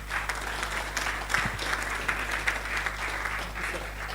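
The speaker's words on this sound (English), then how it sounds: "Please, can we keep that round of applause still warm" A conference audience applauds in a steady, dense wash of clapping lasting the whole stretch, moderately close and unbroken, with faint crowd murmur beneath it.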